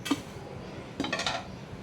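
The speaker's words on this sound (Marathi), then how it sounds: "आता आपण हिला पण एका प्लेटमध्ये काढून घेऊया." Roasted poppy seeds being scraped from a pan onto a plate in a home kitchen, two soft metallic clinks and scrapes about a second apart, faint and close.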